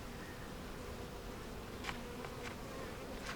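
Bees hum around a second, less active beehive, a faint continuous drone with a few brief passing buzzes, no voices.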